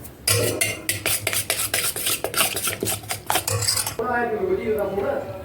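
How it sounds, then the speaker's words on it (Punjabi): Gram flour batter for kadhi is whisked with buttermilk in a metal vessel, giving rapid rhythmic clinks and scrapes close up, then a softer watery swirl at the end, with no talk. "ਇੱਧਰ ਆਪਾਂ ਬੇਸਨ ਘੋਲ ਲੈਨੇ ਆ ਲੱਸੀ ਆਪਾਂ ਪਾਉਣ ਲਈ"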